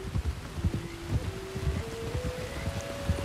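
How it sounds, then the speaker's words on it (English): Rain falls in the Red Dead Redemption 2 game world as a soft, steady hiss and patter, with a low rising tone in the game's background and no speech heard. "You were right about the damn rain."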